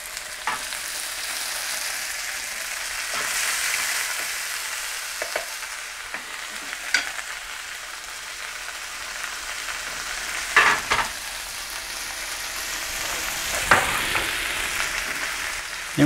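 King prawns stir-fry with dark soy and wine in a steady, loud sizzle that continues for the whole stretch, broken by a few sharp clinks and scrapes of a utensil against the pan.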